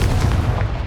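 A Confringo blasting spell explodes in Hogwarts Legacy with a heavy, booming burst that rumbles low and loud, then thins away within a second.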